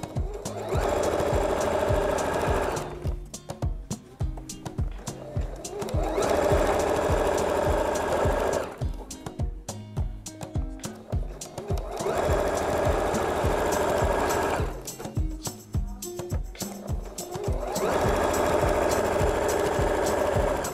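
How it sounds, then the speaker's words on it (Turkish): A sewing machine stitches elastic onto fabric in loud, rapid mechanical bursts of a few seconds each, separated by short pauses, close up and with no talking. "Lastiğimi bu şekilde diktim."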